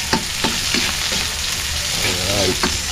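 Onions fry in a pan with garlic and ginger, a loud continuous sizzle broken by several sharp scraping stirs of a utensil against the pan.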